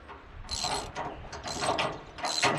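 Ratcheting clicks come from bolts being turned back in on a Cord King firewood processor during prep for transport: three close bursts of rapid metallic ratchet clicks separated by brief pauses, with no talk.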